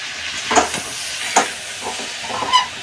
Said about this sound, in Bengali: আমি পেঁয়াজটা একটু ভাজা ভাজা করে নেবো মাংসের সঙ্গে